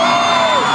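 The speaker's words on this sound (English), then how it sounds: "Make some noise for Mike Angerman." Loud Monster Jam arena crowd roaring and whooping in a sustained, dense wall of cheering, close and continuous, with an announcer's amplified voice blended in.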